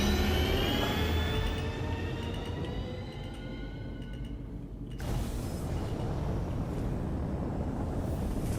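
Spaceship engines drone steadily just after takeoff in the game Star Citizen, a loud broadband roar with rising whine tones that briefly dips and then surges back with a hard, noisy rush.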